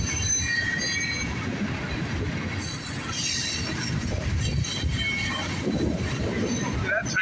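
Northbound CSX mixed freight train with tank cars rolling past close by, a loud, continuous rumble of wheels with metallic squeals and clanks rising over it.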